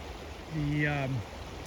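The Arkansas River at Salida, Colorado, running clear at about 280 cubic feet per second, gives a steady, even wash of flowing water, with a brief voiced tone rising over it midway.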